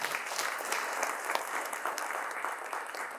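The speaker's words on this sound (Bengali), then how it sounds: "করতালির মাধ্যমে তাকে অভিনন্দন জানাবে" An audience at a theatre festival claps steadily to welcome a guest, a dense, continuous round of applause that stays even and close throughout with no talking over it.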